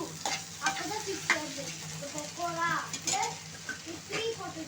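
Three large chopped tomatoes sauté with softened onions and a little salt in a pan for a drumstick and brinjal kulambu. A steady sizzle runs under spoon stirring and scraping while a voice talks over it.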